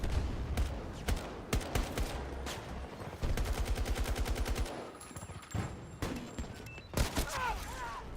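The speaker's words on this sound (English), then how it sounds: "there's people just shooting under my feet" Gunfire from the battle royale mode of the video game Battlefield: rapid automatic bursts and scattered single shots, some close and loud, others fainter, with intermittent voice chatter underneath.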